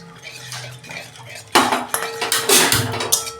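A spoon stirs and scrapes spice paste frying with yogurt in a metal pan, first as quiet sizzling, then as loud, rapid clanks and scrapes close by.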